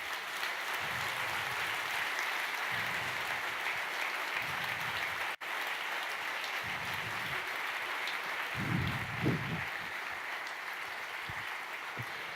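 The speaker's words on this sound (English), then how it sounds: "Please give a big round of applause" Conference audience at a Berlin media convention gives a long round of applause for arriving guests, steady, even clapping from a large hall that continues at a constant level throughout, with a brief murmur of voices in places.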